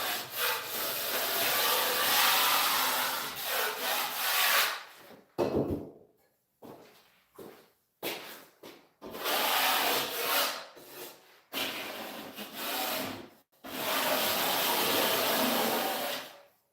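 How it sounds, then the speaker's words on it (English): A scraper is dragged over drywall mud and tape. Long, loud, close rasping strokes repeat, broken by short gaps and a few knocks. "Make sure you scrape."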